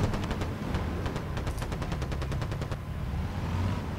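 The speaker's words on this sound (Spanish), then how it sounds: "Se escuchan disparos." Rapid bursts of gunfire in the online shooter Battlefield Play4Free, with volleys of automatic shots rattling in quick succession over a steady low rumble of battle, continuing throughout at moderate loudness.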